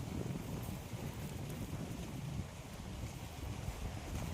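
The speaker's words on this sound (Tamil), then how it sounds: "காற்று பயங்கரமாக அடிக்கி" Strong wind roars into the microphone among palm trees in a village near Thoothukudi, a low rumbling buffeting that stays steady and loud throughout with no voices.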